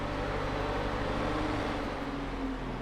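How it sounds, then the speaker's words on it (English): Steady low engine drone of a skid steer loader running at a farm baling site, with a continuous rumble and harmonic hum holding evenly throughout, fairly close and with no voices. "Yeah, it's a skid steer, of course, because it steers by skidding."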